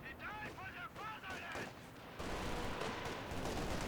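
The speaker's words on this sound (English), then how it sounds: "Werfers continue to pound this position" A Panzerwerfer rocket artillery barrage in a Company of Heroes 2 4v4 match on Hill 400, a dense roll of booms and blasts that swells into a constant wash, with a voice over the first half.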